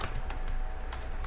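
Keys clatter on a computer keyboard in a few quick, separate taps spread over a brief moment, faint and close against a low background hum.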